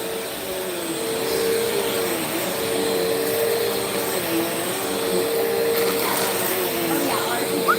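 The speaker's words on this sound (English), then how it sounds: "I'm going to vacuum real fast." A vacuum cleaner drones steadily throughout, its motor whine holding a constant hum with a slight wavering pitch, running close by in a home.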